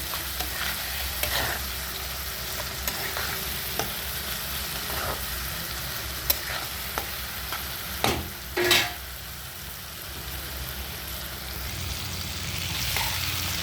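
Spice masala with salt frying in a pan for brinjal bharta, a steady loud sizzle under occasional scraping stirs and clanks of the spatula, with no talking.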